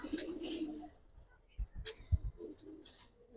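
Giribaz pigeons in a fancier's collection give low, soft cooing bursts, clustered near the middle of the clip, over a quiet background with faint chirpy sounds.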